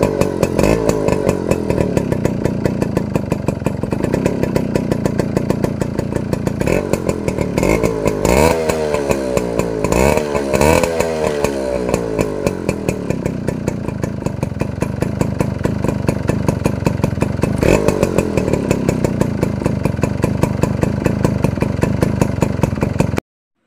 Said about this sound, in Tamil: வாங்க இந்த பைக்கோட பீட்டை கேட்கலாம்.